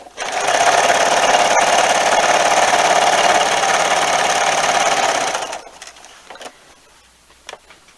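A sewing machine stitching quilt binding runs loud and close for about five seconds in a fast, even mechanical whir, then stops, leaving faint handling clicks and rustles of fabric.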